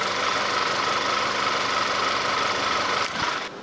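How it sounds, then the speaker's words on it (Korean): An Audi A4 2.0 TFSI quattro idles with the hood open, a steady close-up engine drone with a faint mechanical tick underneath, dipping briefly near the end. "엔진 소리가 이런 소리를 듣기가 정말 쉽지가 않거든요."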